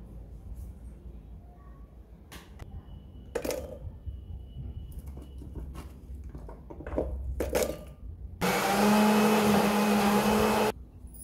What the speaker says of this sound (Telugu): ఉల్లిపాయ వెల్లుల్లి రప్పలు మాత్రం పేస్ట్ చేయాలి.